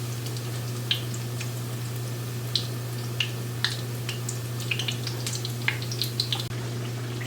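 Akara bean cakes frying in a pan of hot oil give a steady, quiet hiss, broken by scattered sharp crackles and pops over a low constant hum, with no talking.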